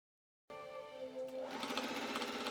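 Sewing machine stitching a Victorian waistcoat starts abruptly after a short silence and runs with a steady motor whir, its rapid stitching rhythm growing louder and busier as it picks up speed.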